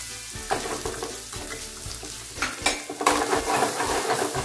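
Butter, chili and spices fry on a high flame while being stirred for shahi paneer, a steady close sizzle broken by repeated scrapes and clinks of a spoon against the pan.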